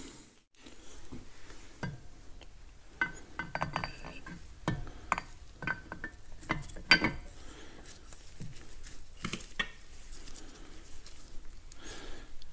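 Camshaft of a Caterpillar D2 diesel engine being greased and slid into place during assembly, heard as scattered light metallic clinks, taps and small handling knocks, close and fairly quiet, with no talk.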